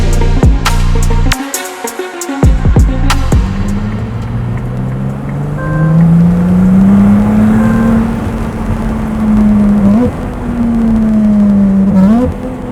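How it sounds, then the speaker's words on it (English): A supercar engine, from a collection including McLaren, Ferrari and Porsche models, revs sharply a few times with crackling bursts, then settles into a loud sustained exhaust drone that rises and dips in pitch. "So there's a lot of drama in the exhaust note and how it behaves."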